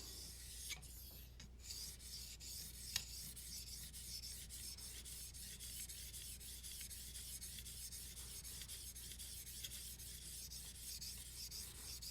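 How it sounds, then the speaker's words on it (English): A knife blade's bevel and apex polished on a fine sharpening stone of about 600 to 1,000 grit, giving a steady, faint rubbing rasp with regular back-and-forth strokes and no talk. "Really polishing up that apex with that bevel"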